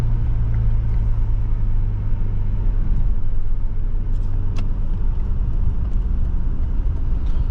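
Steady, loud engine drone and road rumble from a 1993 BMW M5 E34 held in third gear on a drive, a continuous low hum with tyre and wind noise and no let-up.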